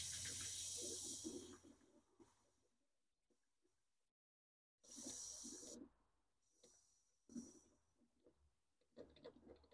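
Air hisses out as pressure is released from a cooling system tester on a car's plastic coolant reservoir, in loud bursts separated by a silent gap, then fading to quieter breathy rustles and handling noises.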